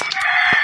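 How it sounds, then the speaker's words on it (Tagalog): A chicken's crow rings out inside a garden-growing video game, a single short, bright call sounding close and loud, with no talk over it. "Pero naingay yung manok"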